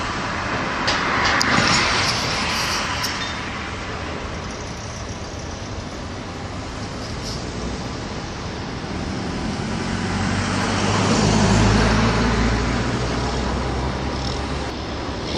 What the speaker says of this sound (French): Un premier camion sort